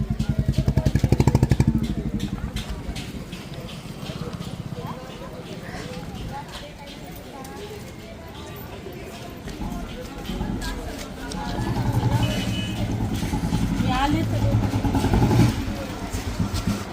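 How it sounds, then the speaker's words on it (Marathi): A motor vehicle passing near a school's annual gathering, its engine rising loud at the start and again toward the end amid a busy clatter, with people talking over it. "हळूच सई थांब गाडी येते."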